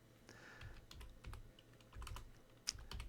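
Typing a terminal command on a computer keyboard connected to a Raspberry Pi running Linux; a quick series of light key clicks in irregular bursts, close and fairly quiet, with one sharper keystroke near the end.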